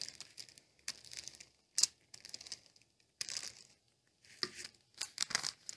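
A paper bag is pressed flat and glued onto paper for an Advent craft, giving bursts of close crinkling and rustling separated by short quiet gaps.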